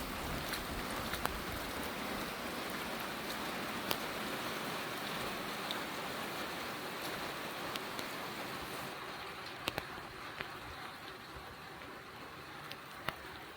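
Steady rain falls outdoors, a continuous even hiss with scattered louder drips and patters, with no voices over it.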